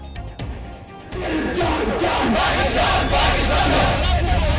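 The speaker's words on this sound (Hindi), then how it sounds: "आतंकियों के अंतिम संस्कार में लोगों की भीड़" A large crowd gathered at a militant's funeral in Kashmir, a dense roar of many voices with raised shouts building to a loud, sustained swell.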